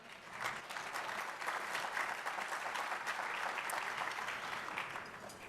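An audience applauds at a State of the County speech, a dense, steady burst of clapping from a large crowd that holds evenly for several seconds and tapers slightly at the end, with no talk over it.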